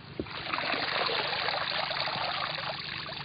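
Dry esparto grass dipped into water to soften it for braiding garlic, a steady trickling, splashing wash of water, close and continuous.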